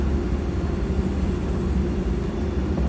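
Airbus A300 engines in a flight simulator spool up for takeoff, a steady, loud, low rumbling roar that holds evenly throughout, with no voices.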